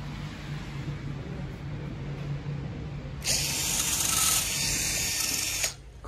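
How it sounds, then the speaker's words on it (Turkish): Rear wheel coming off a Honda Activa-S scooter whose brake fails to hold and drags: a low mechanical hum, then a loud whirring burst from a ratcheting power tool lasting over two seconds before cutting off. "Arka lastik böyle sökülüyor."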